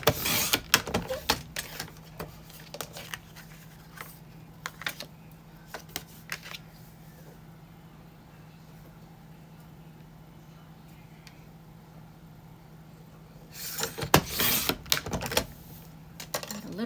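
A Silhouette cutting machine working around the edges of paper, sounding as clustered clicking and whirring bursts that are busy at the start, fade to a quiet hum in the middle and surge again near the end.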